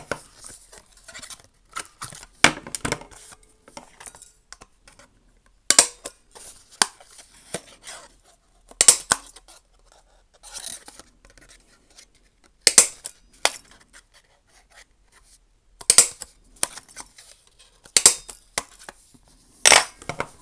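Scissors snip through paper to cut out a snow template, giving sharp, isolated crisp cuts spaced a few seconds apart, close and fairly loud against an otherwise quiet room.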